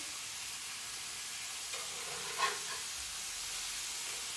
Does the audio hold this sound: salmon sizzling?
yes